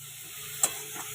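Cauliflower florets being stirred and fried with spices in a pan for a Bengali meal, a steady close sizzle with one sharp scrape of the spoon midway and a softer one near the end.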